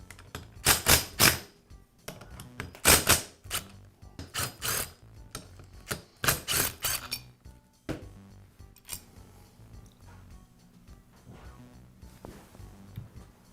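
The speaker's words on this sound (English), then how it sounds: "I'll go ahead and remove two of the screws first, and then slowly remove the other two" Sharp metallic clicks and rattles come from screws being undone on a spring-loaded Karcher pressure washer pump body, arriving in loud bursts with pauses, then quieter scattered ticks of parts shifting.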